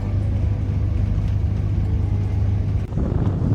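Inside a hitchhiked car driving through Western Sahara toward Dakhla, a loud, steady low engine and road rumble fills the cabin, with a brief dip near the end.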